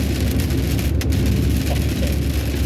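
Rain during a night drive, a dense, steady hiss of drops on the car with a low road rumble underneath, heard close and loud without talk.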